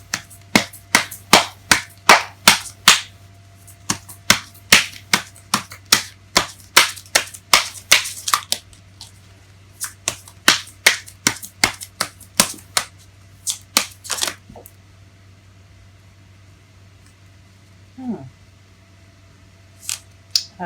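Tarot cards being shuffled by hand, a long run of sharp riffling snaps and slaps in quick rhythmic bursts, close and fairly loud, thinning out to scattered flicks toward the end.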